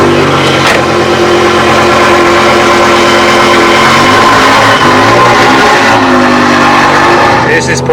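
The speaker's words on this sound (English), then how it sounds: "This is probably the loudest V10 I ever driven." A BMW M6 E63 with the S85 V10 engine, on a test drive after a rod bearing replacement, roars loudly and continuously, its revs rising and falling throughout.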